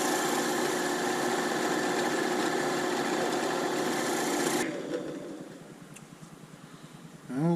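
A drill boring a 9/64 hole in a G12 fibreglass avionics-bay nosecone, running as a steady, loud mechanical whine with dense buzzing texture for most of the clip, then cutting off into quieter rattles and a final brief burst.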